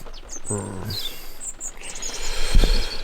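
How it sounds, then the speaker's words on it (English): Several bird chirps and short calls at mid distance from a bush beside a parked Jeep, scattered across a steady background hiss like rain, with a brief low thump near the end. "and I can hear the birds singing to each other"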